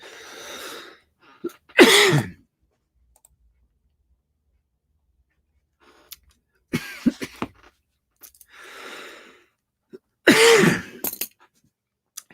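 Several tickly, allergy-driven coughs with a throat-clearing sound, spread out with quiet gaps between, close and fairly loud.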